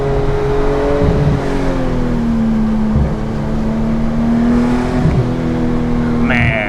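Steady hum of a Porsche 911 GT3 engine heard from inside while driving, with shifting tonal drone and small revs, loud and constant throughout.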